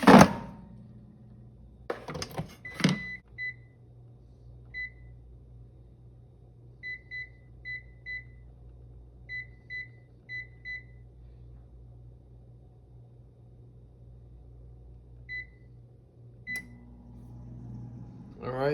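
An air fryer cooking sliced cactus pads at 400 degrees runs with a steady low fan hum, punctuated by a scattered series of short electronic beeps from its controls, with clunky knocks as the unit is handled at the start and end.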